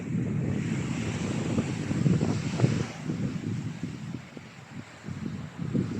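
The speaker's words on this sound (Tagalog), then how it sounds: "malakas na yung alon" Rough, continuous roar of surf and wind at a Zambales beach, with heavy waves churning and breaking nearby and gusts buffeting the microphone.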